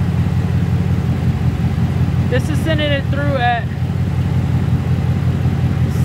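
A steady low engine idle rumble from a supercharged 2019 Ford Mustang runs throughout the clip, loud and continuous, while someone speaks briefly over it partway through.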